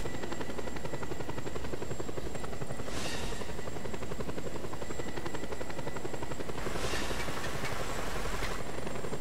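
Steady, loud helicopter rotor drone in the video game Just Cause 2, a continuous heavy thrum with engine hum underneath and brief hissing bursts, filling the whole stretch without any talk.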